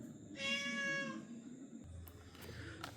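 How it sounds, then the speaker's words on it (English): A hungry stray cat meowing at midnight at home, one drawn-out plaintive meow followed by faint clicks and rustling in a quiet room. "there is a cat at my home. I mean, it's a stray cat."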